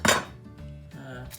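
A fork is picked up, giving one bright metallic clink of cutlery against dishes up close, followed by softer rattling of utensils and plates in a kitchen where a tuna pasta bake has just been served.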